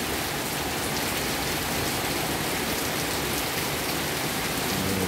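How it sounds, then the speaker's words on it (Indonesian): Heavy rain falls outside a house, a dense, continuous hiss and patter that stays loud and even throughout, with no voices. "intensitas hujan sudah mulai turun."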